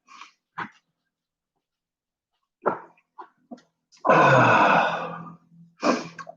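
A pet dog indoors gives several short snorts and sneeze-like huffs, then a longer breathy blast followed by another snort, all close and separated by silences.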